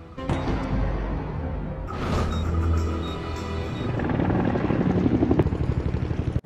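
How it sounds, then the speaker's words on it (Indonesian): A helicopter thrums loudly and steadily nearby, its rotor chop and engine roar swelling toward the end. "Dari udara, helikopter yang akan melakukan evakuasi mendapat serangan tembakan"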